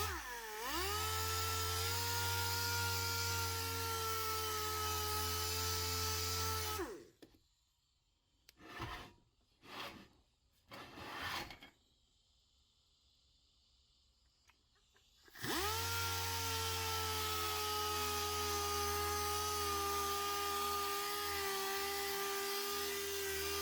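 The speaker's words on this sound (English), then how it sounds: "This is a 150 sandpaper grit, and take a look what it does." Wheel being sanded with 150 grit sandpaper on a power sander, a loud sustained whine that cuts out for a quiet stretch with a few brief bursts, then resumes at full level.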